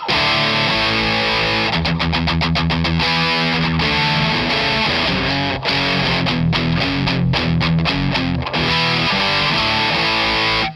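A heavily distorted electric guitar played through a Boss ME-5 plays loud, gritty chords and riffs with a thick, saturated, metallic drive tone, start to finish.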